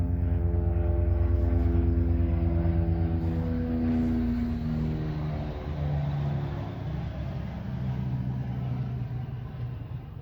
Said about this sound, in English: Airplane going overhead, nice.